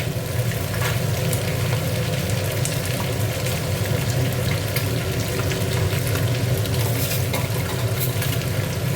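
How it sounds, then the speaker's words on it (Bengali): Panch phoron seeds hit hot oil in a pan while cooking a Bengali chachra, giving a steady, dense sizzle and crackle that holds at an even level throughout, with no voices over it. "দেখো, এখানে 5 ফোড়ন সম্বার দিয়ে দিচ্ছি।"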